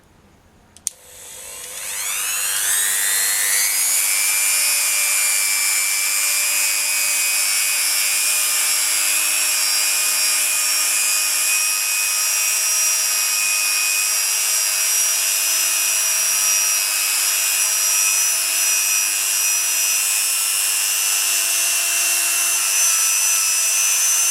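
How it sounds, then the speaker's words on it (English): A Dremel rotary tool with a buffing wheel on polymer clay spins up quickly to a loud, steady high-pitched whine that holds constant for over twenty seconds, close and uninterrupted with no talking. "Now I'm going to be using my Dremel with the buffing wheel to just give it a buff. This is a little loud"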